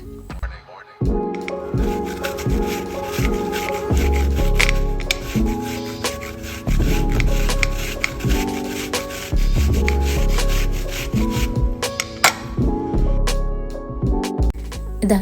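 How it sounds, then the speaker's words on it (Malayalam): An apple is rubbed against a kitchen grater in repeated rough scraping strokes, loud and close, with short pauses between bursts and no talk. "ഒരാപ്പിൾ എടുത്ത് പീൽ ചെയ്തിട്ടോ അല്ലെങ്കിൽ പീൽ ചെയ്യാതെയോ ഇത് നല്ല പോലെ ഒന്ന് ഗ്രേറ്റ് ചെയ്തെടുത്തിട്ട് വരാം."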